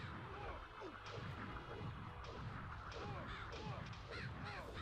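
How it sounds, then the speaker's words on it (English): Crows cawing in the PS1 game MediEvil's Scarecrow Fields level, repeated harsh calls scattered across a busy, continuous game soundscape with other effects and music underneath. "So these scarecrows will summon crows"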